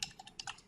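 Quick, faint clicks of typing on a computer keyboard, several keystrokes tapped in rapid succession over less than a second.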